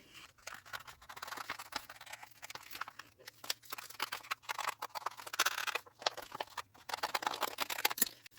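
Scissors snipping through vinyl sheet to cut out a design, close crisp irregular snips and papery crinkles in quick bursts, quiet and alone with no talking.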